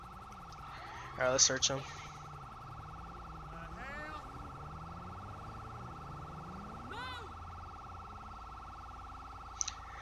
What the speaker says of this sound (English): Should have turned off my sirens first.